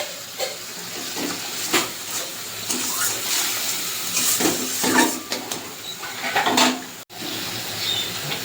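Water runs in a steady, splashy hiss as it is poured into a fish and eggplant curry, broken by brief bubbling bursts and a sudden stop near the end.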